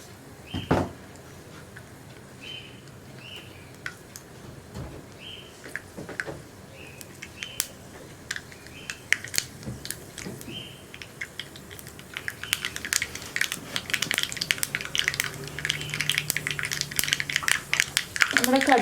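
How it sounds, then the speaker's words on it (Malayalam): Mustard seeds pop and crackle in hot coconut oil while tempering coconut chutney: scattered sharp little clicks, sparse at first and then growing denser and louder toward the end. "നമ്മുടെ കടുക് പൊട്ടിക്കൊണ്ടിരിക്കുന്നുണ്ട്"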